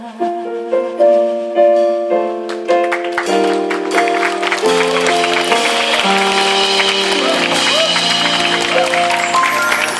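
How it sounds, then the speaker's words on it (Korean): At a small church fair, a sung worship melody ends and gives way to a loud, sustained round of audience applause. "다시 한번 뜨거운 박수 보내주십시오"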